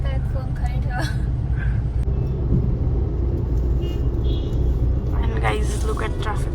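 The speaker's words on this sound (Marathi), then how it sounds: "एवढी भयंकर ट्रॅफिक आहे. काय होतंय नाशिक रोडमध्ये की एवढी ट्रॅफिक का बरं आहे" Dense road traffic on Nashik Road, a constant low engine rumble with passing vehicles and occasional horn toots, heard close up throughout while people talk over it.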